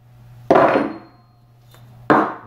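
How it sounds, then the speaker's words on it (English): Two sharp hammer blows strike a rounded-end punch into a wooden saltwater fishing popper, each a loud close knock with a short ringing decay, about one and a half seconds apart. "take a punch here with a kind of a rounded end on it and indent that"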